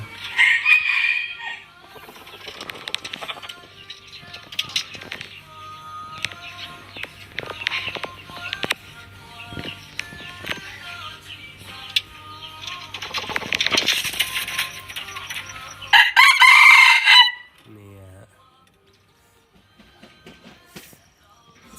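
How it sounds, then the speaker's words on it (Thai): A young eight-month-old gamecock rooster crows repeatedly and loudly close by, with other chickens clucking throughout and a final strong crow before the sound drops away. "เสียงขันนี่สุดยอดเลยนะครับ"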